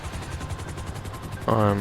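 A helicopter flies in GTA Online with a steady rotor chop throughout, swelling louder and fuller near the end as it comes in to land.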